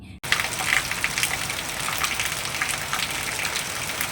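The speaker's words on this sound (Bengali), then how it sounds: "আর সকাল থেকেই শুরু হয়ে গেছে মুষলধারে বৃষ্টি" Heavy rain pours down in a dense, continuous roar, with splashes and patter spread evenly throughout, close and loud.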